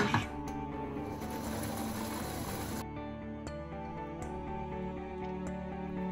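An electric mixer kneading kougelhopf dough with milk and softened butter, a steady mechanical whir and rhythmic ticking close by, easing to a lighter hum partway through, no talking.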